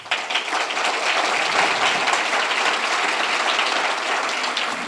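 Steady, dense crowd clapping fills the room at a Webb County judge candidate forum as the audience votes on a question, loud and continuous with no speech.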